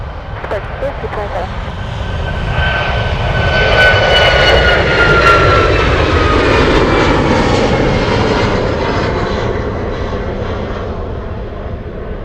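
Alaska Airlines jet departing Anchorage airport, a loud roaring engine rumble swelling to a peak and slowly easing as it climbs away, with a whining tone over the rush.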